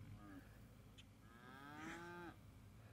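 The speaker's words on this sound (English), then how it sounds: "these cattle, we just weaned them the other day" Freshly weaned cattle at ranch weaning pens let out one long, drawn-out moo that rises and holds before stopping, heard at a moderate distance over steady outdoor background noise.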